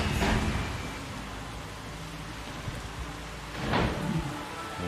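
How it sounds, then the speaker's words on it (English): Steady rain falls across a Jurassic World Evolution park, a dense continuous hiss with brief swells of heavier downpour near the start and again toward the end, no voices. "Just out into the rain."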